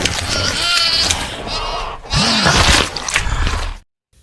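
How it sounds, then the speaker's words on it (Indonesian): Sheep bleat loudly and close on a bridge, in several drawn-out overlapping calls with a short pause, then fall silent. "Pak Hans pun meletakkan beberapa domba tepat di atas jembatan."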